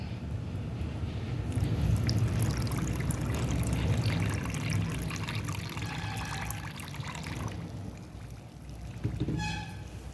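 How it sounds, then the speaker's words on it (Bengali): Water is poured into two packets of semolina in a bowl while making chitoi pitha, a steady close pour and trickle lasting most of the moment before tapering off near the end. "এখন সুজিতে জল দিয়ে দেবো"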